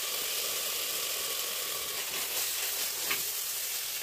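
Tomato masala fries in oil in a clay pot for a village fish curry, a soft, even, hissing sizzle that stays faint and steady throughout, with no talking.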